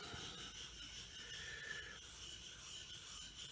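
A small diamond stone rubs steadily across a Japanese waterstone to raise a slurry, a continuous faint abrasive scraping heard close and alone, with no talk.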